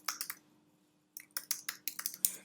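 Quick bursts of keystrokes on a computer keyboard, close crisp clicks in two short runs separated by a brief pause.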